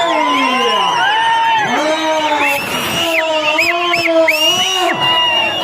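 Spectators at a bullock race blow a steady stream of shrill, sliding whistles over a constant roar of shouting, with the crowd noise loud and close for the whole stretch.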